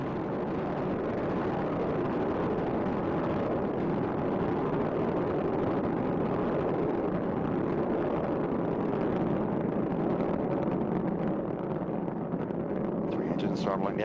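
Space Shuttle Endeavour's rocket engines thunder in a steady, dense roar during its November 2008 climb from Kennedy Space Center, holding loud and unbroken throughout while a voice talks over it.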